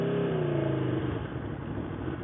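Aprilia Tuono V4 1100 motorcycle on its stock exhaust, a loud, close engine note that starts high and slides down in pitch, then settles into a steady rumbling drone.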